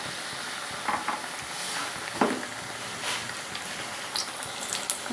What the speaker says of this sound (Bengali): দেখুন আমি দুটো আলুতে কতগুলো চপ ভাজা হয়েছে। এখন ভাজা হচ্ছে